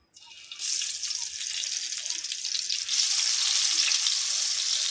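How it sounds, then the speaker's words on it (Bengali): Brinjal (eggplant) pieces frying in hot oil in a pan on a stove, a loud, steady sizzling hiss that starts abruptly and swells further partway through. "এবারে বেগুনগুলো এক এক ভেজে নেবো"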